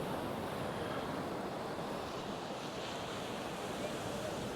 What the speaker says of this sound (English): there's quite a nice little wave coming in there